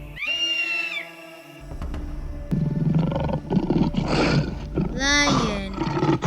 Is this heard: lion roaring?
yes